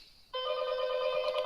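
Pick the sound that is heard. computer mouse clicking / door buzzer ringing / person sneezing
door buzzer ringing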